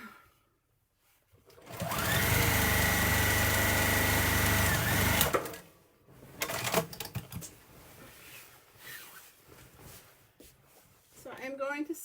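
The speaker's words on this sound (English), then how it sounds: "So I'm going to sew my borders together." A sewing machine runs a sustained whirring burst while quilt borders are sewn together, close and loud for a few seconds, then stops as someone talks quietly afterward.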